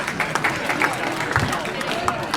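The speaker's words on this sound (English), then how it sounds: "The applause is for me being away for a while, right?" Audience applause at a Rotary club meeting, a steady wash of many hands clapping from a seated crowd, continuous and fairly loud throughout.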